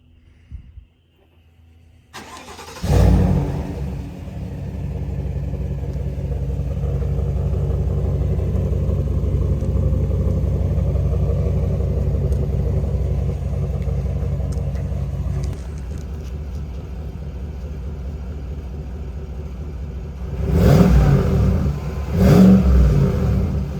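A 2022 GMC Sierra AT4 pickup's 6.2L V8 with its resonator deleted starts, then holds a deep, steady droning rumble around 1500 RPM, heard close, before short louder blips of revving at the end.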